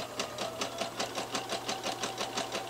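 A sewing machine sews a regular seam on a sweatshirt in one continuous, close run of rhythmic needle ticking over a steady motor hum.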